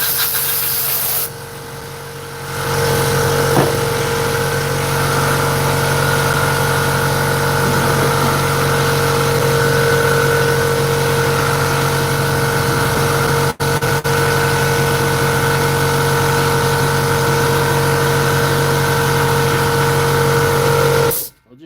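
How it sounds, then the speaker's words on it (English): A small air compressor in a repair workshop runs loud and steady with a constant droning hum and motor whine, briefly cutting out once before shutting off at the end. "Sorry about the noise. My compressor is not big,"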